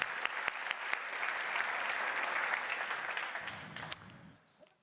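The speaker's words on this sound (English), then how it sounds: "Give a warm applause to Erland." An audience at a building-industry session on pilots and prototyping applauds a speaker, a steady, dense round of clapping that holds for several seconds before thinning out and fading at the end.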